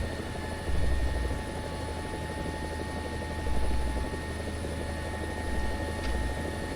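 Helicopter rotor and turbine engine in War Thunder, a steady loud whir at full RPM with a deep rhythmic rotor thump that swells in pulses, no talking.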